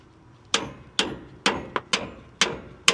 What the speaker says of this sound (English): Let's knock those out with a hammer.